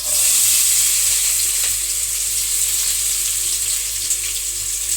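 Whole spices and chopped onions fry in hot oil for a chicken curry with sorrel greens, giving off a loud, continuous hiss that eases off slightly with a few soft stirring clicks.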